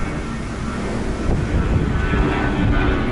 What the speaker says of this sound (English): A plane taking off.